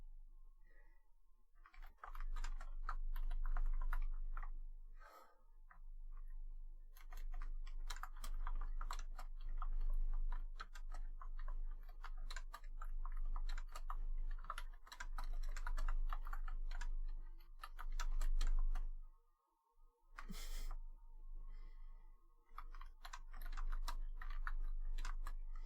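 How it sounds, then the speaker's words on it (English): Rapid keystrokes clatter on a computer keyboard at a desk, irregular bursts of clicks with short pauses, fairly close and alone, no talk. "I'm actually typing thank you here."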